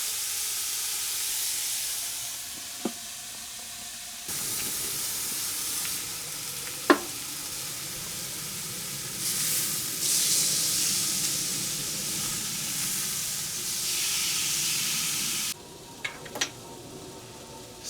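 Steak and a potato cooking over a camp stove at a Michigan campsite, giving a steady close sizzle and hiss that swells louder partway through, with a few faint clicks and taps of utensils.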